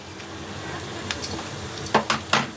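Dried chili and black cumin sizzling in hot oil, a steady close hiss that runs throughout, with a few sharper clinks of stirring near the end.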